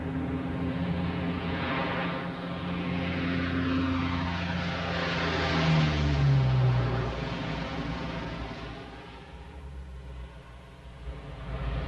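A Lockheed P-3 flies past on a photo recon flight, its propeller engines droning steadily with a rising and falling pitch as the aircraft passes, loud and continuous throughout.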